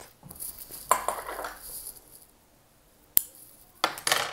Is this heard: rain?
no